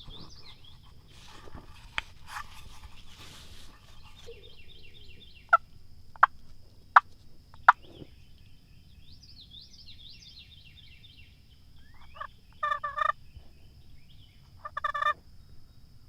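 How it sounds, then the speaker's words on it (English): A wild turkey gobbler sounds off in the woods during a hunt: several short, sharp gobbles ring out in separate bursts, with fainter bird calls and quiet outdoor ambience in between. "He just gobbled again."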